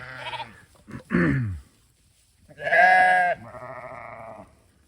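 Several sheep bleat in turn, loud and close, with a short gap of quiet between the calls.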